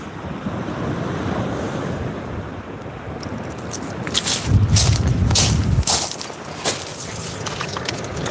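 Steady wind and breaking surf at the sea, with an offshore wind, during a kayak sea-fishing outing. The gusty roar continues throughout, with wind buffeting the microphone and a few sharper knocks and splashes near the end, and no talk.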